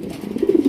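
A large Lahori pigeon at a pigeon farm gives a short, low, mellow coo that swells slightly toward the end, close by and alone.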